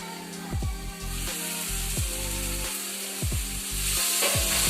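Tomato and onion masala sizzles steadily in a hot pan while a spoon stirs it, with repeated scraping strokes against the pan bottom over a constant frying hiss.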